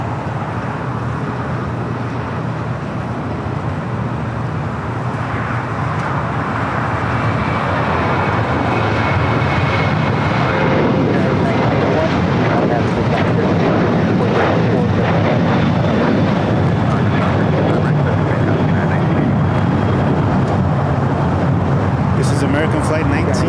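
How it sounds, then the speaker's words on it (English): A 24-year-old Boeing 737-800 airliner bound for Phoenix takes off from the south side at LAX, its steady loud jet roar filling the whole span with voices talking over it. "Flight 1994 going back to Phoenix on a 24-year-old 737-800."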